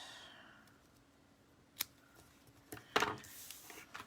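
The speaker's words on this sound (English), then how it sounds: "we'll just cut the ends a little bit" Scissors snip the ends of a ribbon on a fold card, giving a couple of short, crisp cutting sounds close by in a quiet room.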